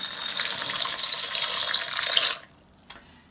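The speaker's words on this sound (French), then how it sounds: "vous incorporez les pâtes dans l'eau qui bouille" Pasta goes into a pot of boiling water, giving a loud, steady rush of watery sound for about two seconds that cuts off abruptly, followed by near silence and one faint small knock.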